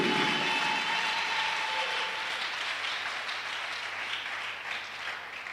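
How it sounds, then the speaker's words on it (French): A church congregation claps and cheers in praise, a dense, sustained wash of applause that fills the room and slowly fades over several seconds, with no one speaking. "Give the Lord a big clap offering."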